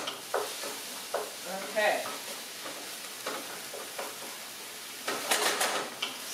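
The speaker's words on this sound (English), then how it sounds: "getting our turkey browned up in there real quick" Ground turkey browning in a soup pot, a moderate sizzle with intermittent scrapes and clacks of a utensil against the pot, and a brief spoken word early on.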